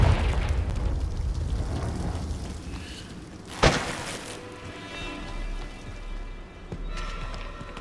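Spell explosions from Confringo casts in the video game Hogwarts Legacy: one sharp, loud blast stands out in the middle, with softer bursts and rumbling game sounds around it.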